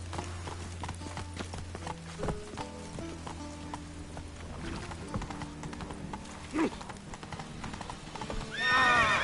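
Horse hooves clip-clop at a gallop in Witcher 3, rhythmic and close, with whinnies and neighs cutting in and other game sounds layered underneath, and a loud burst near the end.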